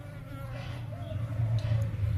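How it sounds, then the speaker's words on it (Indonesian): Apis cerana honeybees hum at their hive, a steady low buzz up close that swells slightly toward the end. "Begitulah tentang lebah apis cerana yang nggak minggat ya"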